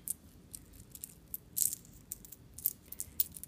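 Small old stamped metal coins on an ethnic-style necklace jingle and clink softly in scattered light bursts, close and quiet with no talking.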